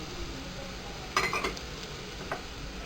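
Chilli, coriander, cumin and turmeric powders being stirred in a pan for potato paratha stuffing: a faint background sizzle broken by a few quick scraping, clinking strokes of a spoon against metal.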